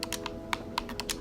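Keys tapped on a computer keyboard while entering a model name in Lego Worlds, about eight quick, close clicks in an irregular burst, a steady low hum beneath.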